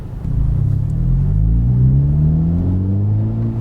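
A 2021 Honda Civic Type R with its turbocharged K20C1 engine pulls hard under acceleration, a loud, close rumble whose pitch climbs steadily over a few seconds before easing at the end.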